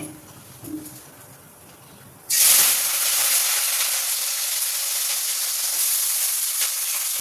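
Ivy gourd goes into hot oil with spices and bursts into a loud, sudden sizzle that holds steady as a bright hiss until the end.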